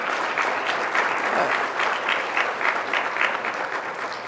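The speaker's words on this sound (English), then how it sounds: "Please give them a round of applause." A conference audience at a Latino/a/x issues event claps for its sponsors, loud, steady applause from a full room that carries on without pause.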